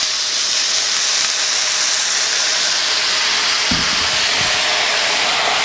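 Water added to a hot pan of gyoza sends up a loud, continuous steam hiss, broad and steady for several seconds, with a few low thumps partway through.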